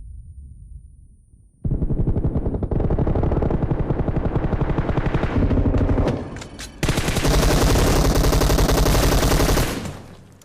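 An M249 light machine gun in PUBG Mobile fires long, loud sustained bursts, a rapid rattling stream that cuts out briefly in the middle before a second extended burst.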